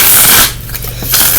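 Oracle cards are shuffled close by in a brief riffle, a soft papery flutter lasting about a second with no talking.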